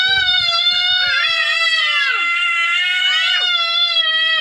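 Little boys shouting and shrieking loudly up close, a sustained high-pitched wail with sliding pitch and sharp dips, loud and continuous with no other sounds.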